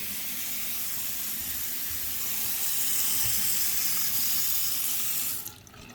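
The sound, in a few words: water running from tap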